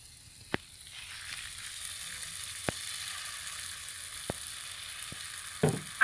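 Eggs frying in a hot pan with caramelized onions: a steady close sizzle with a few sharp pops and a louder crackling burst near the end, no talk.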